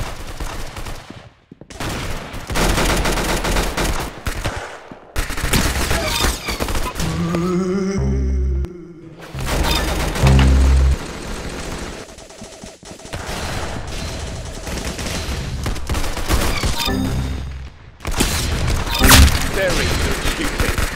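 Rapid bursts of gunfire with dense shots and booms come in several loud volleys separated by brief pauses. Voices talk in between and over the shooting.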